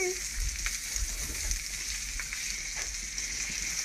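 Sausages fry in a pan with a steady, dense sizzle and crackle throughout, fairly close and continuous, with occasional light pops.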